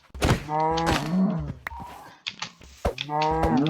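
Several loud, drawn-out Minecraft cow moos in a row, harmonic and groaning, with short thumps between calls and no talking.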